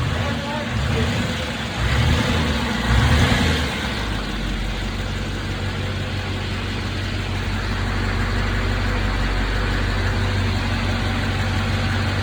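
A Duramax diesel engine swapped into a 1971 Chevrolet C10 truck idles with a steady, deep rumble close by, while voices talk briefly over it near the start.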